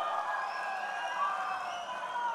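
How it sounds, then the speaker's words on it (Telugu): A crowd at a political rally in Andhra Pradesh cheering and applauding, a steady, moderately loud wash of voices and clapping. "గట్టిగా చప్పట్లు కొట్టి అందరినీ అభినందించాలి, ఆశీర్వదించాలి."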